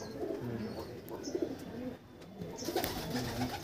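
Pigeons coo softly inside a home-built loft with paired breeding boxes, low repeated coos close by with a few faint chirps, and no talk.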